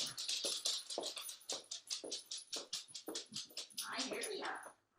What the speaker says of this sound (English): I have to let my dog out.